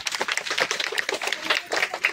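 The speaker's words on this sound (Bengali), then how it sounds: "হাততালি" A small group claps hands together after a song, producing brisk, uneven close claps that run continuously for a couple of seconds.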